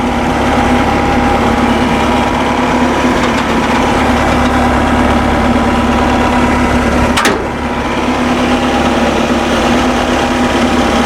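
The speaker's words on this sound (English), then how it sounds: "I'm going to turn up the idle a little bit so we can get this thing heated up quicker" A Bobcat 773 skid steer engine idles steadily and loudly up close, a constant droning rumble with a brief dip partway through.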